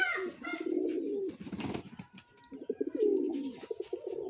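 Several pet pigeons coo nearby in soft, rolling low calls that rise and fall in separate phrases, with a brief rustle and a few faint chirps between them.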